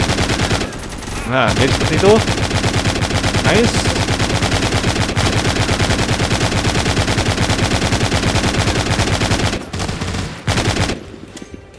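A mounted machine gun fires in The Walking Zombie video game, long rapid bursts of rattling shots with brief pauses, while someone talks over the gunfire.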